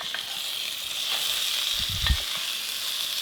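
Crushed garlic and onion fry in a pan for a lamb stew, giving a steady, close hiss of sizzling oil with a brief low stirring bump near the middle.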